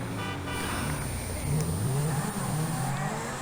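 A car drives in the video game GTA 5, its engine humming steadily and rising in pitch as it accelerates, heard alone at moderate loudness.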